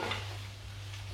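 A curry mixture seasoned with pepper and salt is stirred in a pan, giving a soft, quiet scraping with a faint sizzle over a brief moment.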